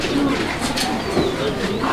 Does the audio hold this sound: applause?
no